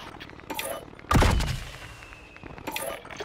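Gunfire in the battle royale shooter Call of Duty Warzone, one loud close shot ringing out with a booming tail, surrounded by fainter distant shots and game ambience.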